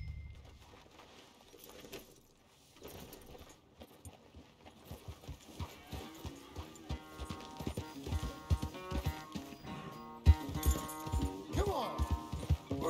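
Rhythmic horse hoofbeats in a video game clip-clop steadily near a corral, growing louder and more regular, with soft musical tones and faint bird-like sounds in the background.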